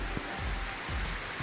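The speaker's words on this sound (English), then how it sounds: "Afternoon downpour." Afternoon summer downpour in a humid subtropical nature preserve, heard as a steady broadband wash of rain with soft low thumps throughout, fairly quiet and without voices.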